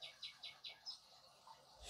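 Faint songbird chirps repeat in a quick series of five or six short notes outdoors in nature, soft and somewhat distant over quiet background hiss.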